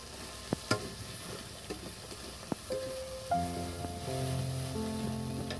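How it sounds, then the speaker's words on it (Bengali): Onion goes into hot oil in a pan, with a few sharp taps and stirring sounds followed by a steady, quiet sizzle of frying that carries on and builds slightly. "এর মধ্যে আমি এই পেঁয়াজটা দিয়ে দিচ্ছি।"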